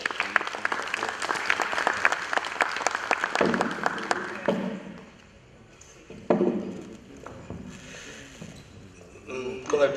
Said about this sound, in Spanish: Pedimos un aplauso para la doctora.